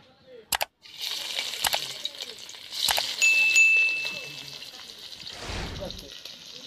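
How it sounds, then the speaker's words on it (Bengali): Salt-and-turmeric-coated fish, chital in a mustard preparation, hit hot oil in a kadai and sizzle steadily at close range, with a few clinks of utensils and a brief louder splash near the end. "তেল গরম হয়ে গেছে, লবণ হলুদ মাখানো মাছগুলো দিয়ে দেবো।"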